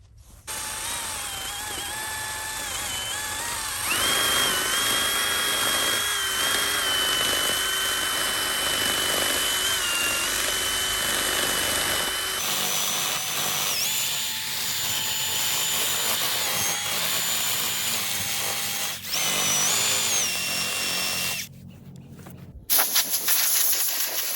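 A power drill with a long sanding mandrel whines steadily at high speed with a grinding, sanding hiss on carved wood, shifting pitch partway through, then stopping briefly before a short final burst.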